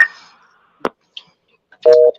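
A telephone tone sounds on a conference call line as the phone system drops out. Scattered clicks and short bursts come first, then a steady, sustained tone near the end, with no talking.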